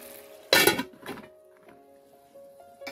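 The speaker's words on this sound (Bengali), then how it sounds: "আবার ওগুলোকে ঢাকনা দিয়ে ঢেকে দিচ্ছি।" A lid is set over a pan of doi begun, brinjals cooking in yogurt, giving one loud close metallic clatter and a softer second clink, then a faint ringing tone in a quiet kitchen.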